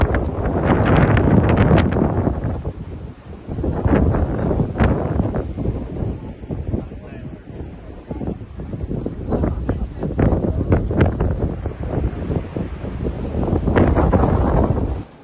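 Strong wind gusts buffet the microphone along the Twelve Apostles limestone coast on the Great Ocean Road in Victoria, a loud, continuous roar that swells and eases in waves throughout.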